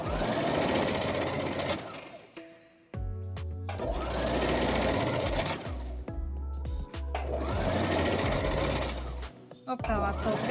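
Sewing machine stitching elastic onto a thong, running in three long loud bursts with short pauses between them as the fabric is repositioned.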